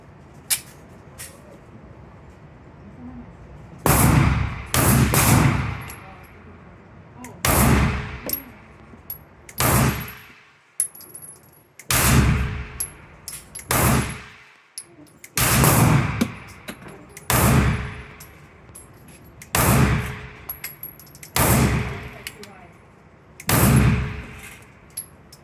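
A PSA Micro Dagger pistol fires about a dozen sharp, loud shots one at a time at uneven intervals, each shot followed by a short ringing decay.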